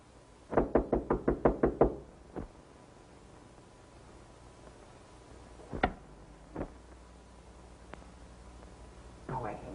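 Knocking on a door in a 1933 film: a quick burst of about seven sharp raps, then a single knock, followed later by a few scattered louder knocks and thumps, fairly close and clear.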